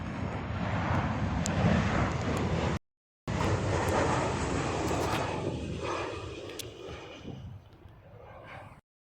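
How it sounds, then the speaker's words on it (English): A Ryanair Boeing 737 comes in to land, its broad engine roar loud and steady for several seconds before a brief cut, then continuing and gradually thinning as the jet passes, with light wind noise on the microphone. "we've got a plane that's about to land. Ah, yes! A Ryanair Boeing 737."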